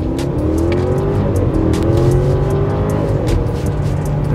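A 2020 Audi A8 pulls away from a standstill with a steady, smooth engine note that rises gradually under loud road and wind noise, heard from inside the car.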